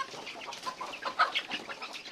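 Chickens cluck in a steady, overlapping stream at moderate distance, with a slightly sharper call standing out near the middle and no talk over them.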